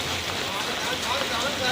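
Heavy rain pours steadily over Velachery in Chennai, a dense continuous hiss of drops close by, with faint voices around it.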